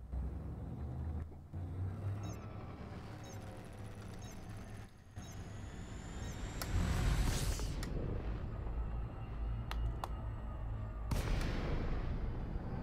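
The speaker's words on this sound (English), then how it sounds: "you got asteroids just exploding around you" Asteroids blow up in Elite Dangerous amid a low engine rumble, with several sharp blasts and crackling bursts that swell and fade, the loudest near the middle and end.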